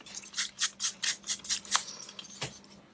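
A paper piece for an altered file folder being inked with an ink pad, giving a quick series of soft dabbing and rubbing strokes close by, then a pause and one final tap, with no talking.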